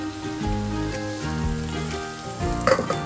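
Potato and pumpkin pieces sizzle and fry in hot oil in a pan, a steady close crackle under sustained tonal background music, with a brief clatter near the end.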